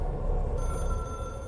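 A telephone rings in the video game Control, a steady electronic bell tone sounding over a low, rumbling ambient background.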